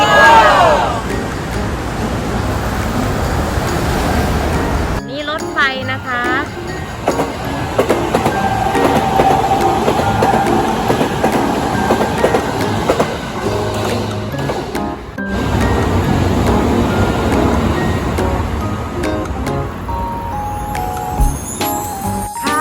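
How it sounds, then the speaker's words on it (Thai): A Chiba suspended monorail train in Japan rumbles past at close range, a loud sustained roar with rhythmic clatter that cuts off sharply and returns; no clear speech. "รถไฟผ่านไปแล้วนะคะ รถไฟผ่านไปเมื่อกี้นี้นะคะ"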